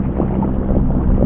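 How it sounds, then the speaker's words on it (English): A boat's trolling motor runs on high speed on a windy day, a steady close whirring drone mixed with wind buffeting, fairly loud and continuous with no talk. "This trolling motor on high speed can be a little loud"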